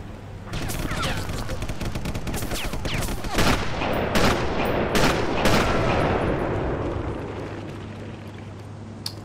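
Sniper rifle fire in Sniper Elite, with several sharp shots cracking over a dense backdrop of battle noise and rumble while someone talks.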